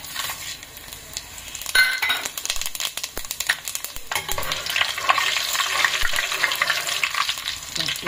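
Whole spices crackling in hot sesame oil in a pot for mutton kulambu, a close, busy sizzle that swells louder midway, with scattered spatula clinks and scrapes and no talking.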